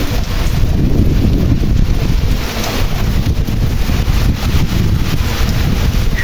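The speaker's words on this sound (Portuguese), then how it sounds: "Tá engrossando a chuva." Heavy afternoon rain with strong wind in the Pernambuco sertão makes a constant loud roar, with gusts buffeting the microphone and no voices.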